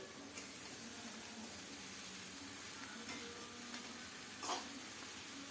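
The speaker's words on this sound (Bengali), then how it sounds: "লতি দিয়ে ভালোভাবে মশলার সাথে নেড়ে চেড়ে মিশিয়ে ঢেকে ঢেকে রান্না করব।" Taro stolons are stirred with spices in a pan. A faint, steady sizzle runs throughout, with a few brief scrapes or knocks of the utensil, the clearest near the end, quiet and without talking.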